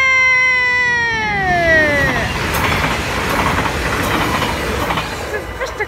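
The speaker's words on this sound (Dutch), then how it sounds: "dit is de laatste trein" A Dutch train passes a railroad crossing, the horn sounding in a falling, sliding tone. A loud, continuous rush of wheels and rails follows, with rhythmic clatter close by.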